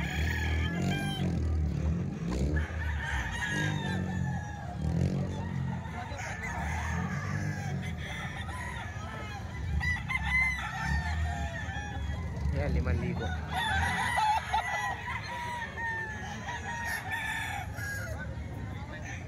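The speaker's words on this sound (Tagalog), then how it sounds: "Ang daming manok ngayon mga bossing sa Bukawi." Roosters crow repeatedly over a background of clucking chickens in Bukawi, several birds calling at once, while someone speaks briefly nearby.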